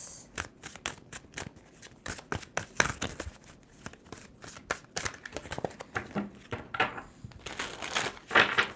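A deck of tarot cards being shuffled by hand in repeated bursts, crisp riffling and slapping strokes close up, coming in an irregular rhythm with brief gaps between shuffles and no talking over them.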